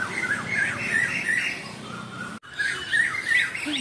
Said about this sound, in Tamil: இங்கே இருக்காங்க குயில்கள், நிறைய இருக்கு குயில்.